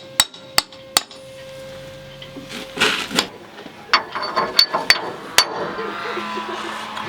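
A rubber seal is hammered dry into a steel wheel bearing housing: sharp, separate metallic strikes arrive in uneven bursts, some close together and some spaced apart, with soft handling noises between them.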